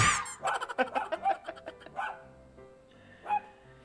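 A fox gives a run of high, wavering yelps and howl-like cries, close and loud, followed by quieter whining calls.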